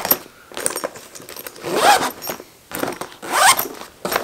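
A zipper on an overland expedition bag is opened and closed in several quick raspy pulls with short pauses between them, close and fairly loud with no talk.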